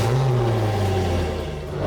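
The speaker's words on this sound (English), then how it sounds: "slide a motor flush over the water intake, turn the water on, then start the engine." A boat engine starts and runs with a motor flush slid over its water intake and the water turned on, a steady low mid-pitched engine drone with a few revving swells, close and continuous, with no talking.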